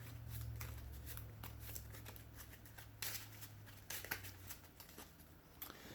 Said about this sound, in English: After you shuffle your deck.